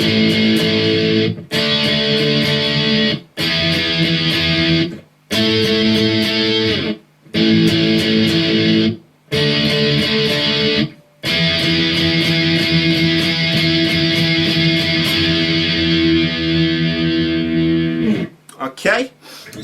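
Distorted electric guitar plays a song's interlude, loud chugging chord bursts separated by short rhythmic gaps, then a longer sustained stretch before stopping; no talking over it.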